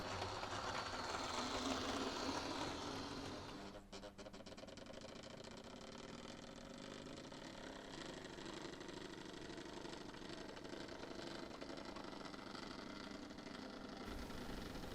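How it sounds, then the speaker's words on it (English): A Class 37 diesel locomotive at a heritage railway diesel gala moves forward toward the shed after uncoupling, its engine a steady low drone and rumble with a burst of rattling clanks partway through, no talk. "The loco is uncoupled and moves forward to the diesel shed area just beyond the road overbridge."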